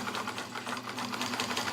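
Morse Super Dial heavy-duty sewing machine, Toyota made, stitching over the seam of cargo pants at a moderate pace, giving a steady rapid mechanical whir with a pulsing needle rhythm, loud and close.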